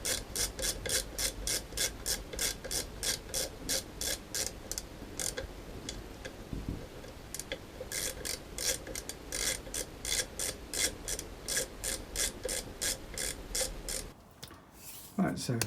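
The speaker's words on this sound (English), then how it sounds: "That click, that means we're up to torque." A torque wrench ticks in a quick, steady ratcheting rhythm while tightening cover bolts on a Moto Guzzi Breva 1100 motorcycle engine, the close mechanical clicks running almost continuously with a brief pause near the end.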